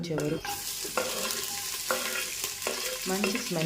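Spinach paste for palak rice frying in a pan, loud steady sizzle with repeated stirring scrapes of a spatula every half second or so, close up and no talking.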